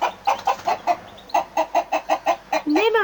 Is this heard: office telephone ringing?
no